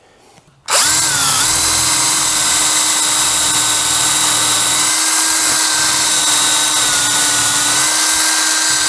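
Power drill boring a hole through a wooden 4x4 gate post, starting abruptly after a quiet moment and then whining steadily and loudly at constant speed for several seconds.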